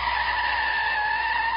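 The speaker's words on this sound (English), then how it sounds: "Whoa, hit the brakes." A car braking hard and skidding: a sustained, steady tire squeal at a loud, even level, heard alone with no voices.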